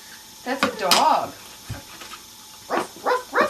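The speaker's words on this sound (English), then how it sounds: "That's a dog." A toy puzzle plays a recorded dog barking, several short electronic barks with a yelp, then a voice, bright and close.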